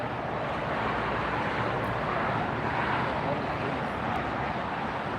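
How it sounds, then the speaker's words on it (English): An Air New Zealand airliner in all-black livery taxis at LAX, heard as a steady, broad, moderately distant roar of jet engines and wind with no clear change in pitch throughout. "So on the right is the Air New Zealand all black livery taxiing."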